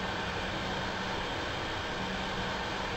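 A steam locomotive running in Microsoft Train Simulator, a constant dense rumble and hiss of the engine, loud and unbroken.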